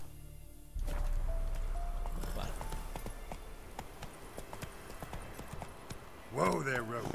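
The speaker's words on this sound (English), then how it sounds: "Whoa there, Roach" Horse hooves galloping in The Witcher 3, a steady close drumming of clip-clop that starts abruptly and runs throughout, with a brief whinny near the end and someone speaking over it.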